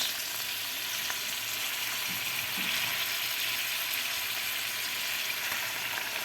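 Just over half a kilo of fresh spinach dropped into a hot pan of fried onion and meat, giving a steady broadband sizzle that holds evenly throughout, close and moderately loud, with no talking.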